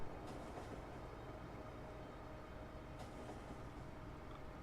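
A train rolling along in the factory-building game Factorio, a steady continuous rumble with faint rail rattle held at an even level throughout, with no voices.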